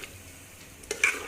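Mung dal being stirred in a pot, a soft steady sizzle with a few faint scraping strokes near the end, close and quiet, no talking.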